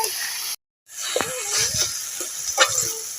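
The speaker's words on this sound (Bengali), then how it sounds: "এবার মোচা, আলু আর ছোলা একসাথে ভালোভাবে আমি কষিয়ে নেব" Banana flower, potato and chickpeas sautéing in a pan give a close, continuous sizzle with stirring scrapes, broken by a short cut near the start, while a voice talks over the cooking.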